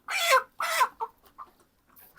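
Two loud clucks from a nearby broiler chicken followed by a few softer, shorter clucks, with no talking.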